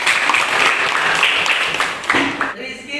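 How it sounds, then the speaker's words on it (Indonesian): Classroom applause for a student named Firda from group one, a dense wash of clapping hands that fills the room steadily, then drops off sharply near the end. "aplaus dulu buat Firda di kelompok satu"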